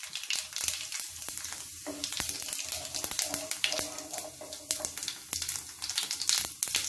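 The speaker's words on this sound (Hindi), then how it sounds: "अब हमें इसमें थोड़ा सा जीरा ऐड करेंगे।" Cumin seeds hit hot oil in a pan for a mixed potato, pea and carrot curry. They crackle and sizzle loudly and steadily up close, with scattered sharp pops and some stirring, and there is no talking.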